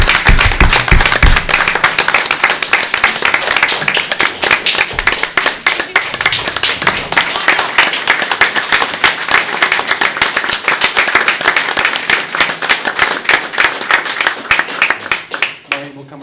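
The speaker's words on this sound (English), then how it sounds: "Maybe we could offer a final round of applause" A dense, sustained round of clapping from a roomful of people at a town select board meeting, loud and continuous for several seconds before tapering off at the end.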